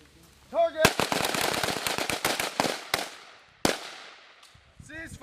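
Live-fire FAMAS rifles crack in a rapid volley of loud, sharp shots at a military range drill with US Marines and French Army troops, about a dozen reports in quick succession, then a lone shot; shouted commands come before and after.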